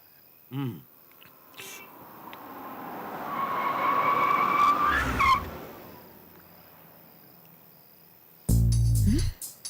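A car's tyres squeal in a long, swelling screech that rises and then cuts off, followed after a pause by a loud, abrupt burst of noise.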